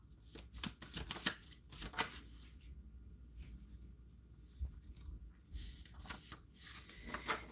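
Playing cards riffled and shuffled by hand during a live tarot-style reading, a run of quick papery riffles and flutters with soft slaps in between, close and fairly quiet, with no talking.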